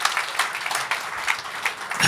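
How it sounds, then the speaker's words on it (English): Audience at a live presentation claps in a steady, moderately faint round of applause lasting about two seconds, with crisp scattered hand claps and no voices. "Can I get a big round of applause if you think this is amazing?"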